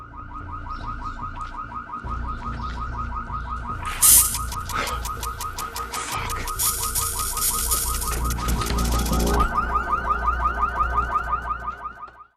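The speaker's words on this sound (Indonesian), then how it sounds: "memancing Paijo dengan alarm mobil yang dinyalakan" Car alarm blaring nearby, cycling through loud repeating siren and warble patterns for the whole stretch, with a short sharp burst of noise partway through and no talking.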